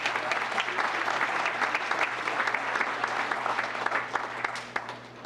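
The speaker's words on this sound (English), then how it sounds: "if you could join me in a nice round of applause" Steady applause from a room full of people at a town council meeting, dense and continuous clapping that holds at an even level throughout with no voices standing out.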